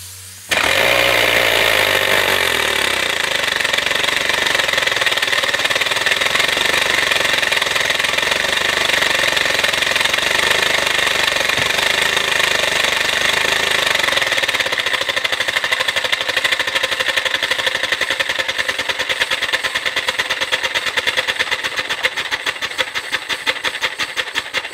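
A 3D-printed air engine running on compressed air, a loud continuous rapid mechanical chugging and hissing that starts abruptly, holds steady, then speeds into a faster rattle toward the end.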